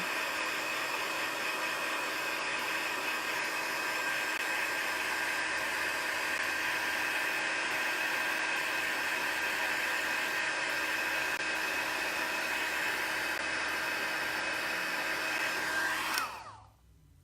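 A heat gun blows a steady, loud whooshing hum over a handmade birthday card while heat embossing it, running without a break for about sixteen seconds before it cuts off abruptly.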